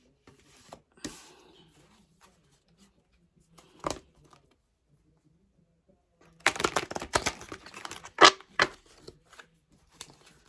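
Tarot cards being shuffled by hand during a reading: soft riffling and flicking bursts, a few isolated ones early on, then a denser flurry of quick card snaps near the end, close and moderately loud with no talking.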